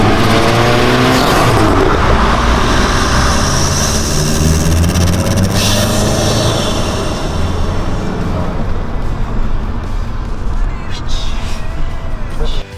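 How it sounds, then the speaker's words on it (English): A Volkswagen GTI Mk7 engine revs loudly and close, the turbo spooling up and the discharge pipe releasing with a rushing, hissing whoosh over the continuous engine roar, with someone talking over it. "Every time I hear the turbo spool up and that discharge pipe releasing"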